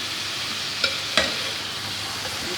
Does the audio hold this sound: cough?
no